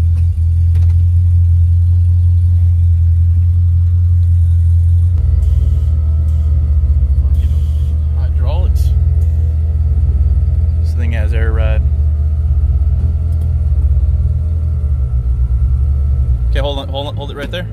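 A 1964 Chevrolet Malibu engine with a 4L80E transmission runs with a loud, close low rumble that cuts to a lower level partway through, while people talk over it.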